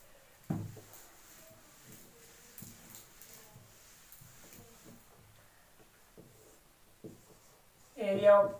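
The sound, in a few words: writing an equation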